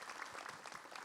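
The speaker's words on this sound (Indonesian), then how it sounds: "Silakan waktunya, tepuk tangan dong buat Ustadz Faris." Steady clapping from a TV studio audience, dense and continuous with no voices over it.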